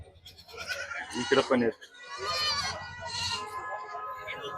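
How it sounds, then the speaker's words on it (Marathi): Young goat kids bleating repeatedly at a busy goat, sheep and poultry market in Maharashtra, with someone talking over the calls and crowd bustle around them. "ही सगळी करडं शेळ्यांसोबत येतात ते."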